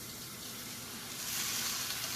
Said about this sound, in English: And I'm going to start out with a cup of water.